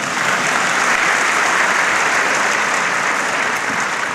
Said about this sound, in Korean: 잠깐 어색한데 박수 한번 쳐주시죠.